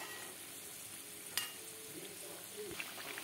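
Cauliflower kachori deep-frying in oil over a low flame, a steady soft sizzle running throughout with a brief sharp clink near the middle and light stirring sounds, no talking.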